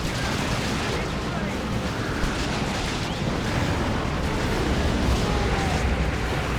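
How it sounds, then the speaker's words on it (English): Manticore battery rockets strike in Warhammer 40,000: Dawn of War II, a continuous dense roar of overlapping explosions and rumbling battle noise, loud and unbroken, with voices mixed into the din. "Manticore batteries, vengeance and justice, crush them beneath your rockets!"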